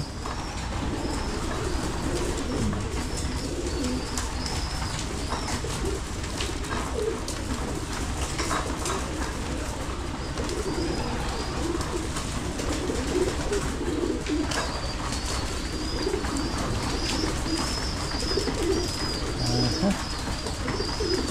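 Pigeons coo repeatedly in a loft holding young birds, soft low rounded calls layered over steady background noise with a few faint chirps, moderately near and continuous.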